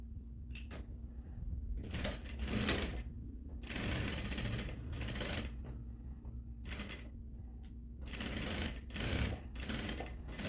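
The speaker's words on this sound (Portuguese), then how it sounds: "Agora eu vou costurar com 1 centímetro" Sewing machine stitching fabric for a dress in several bursts of rapid mechanical whirring and clatter, separated by short pauses, fairly quiet and close.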